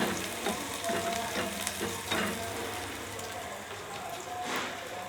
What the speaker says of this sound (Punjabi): ਹੁਣ ਆਪਾਂ ਤੜਕ ਦਿਆਂਗੇ ਸਾਗ